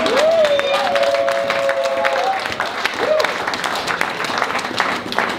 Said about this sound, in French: Acclamons les mains à la table.